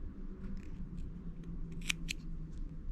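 Scissors snip the loose start and finish yarn ends of a machine-knitted sweater with a knitted collar, a couple of crisp close cuts around the middle against a low steady background hum.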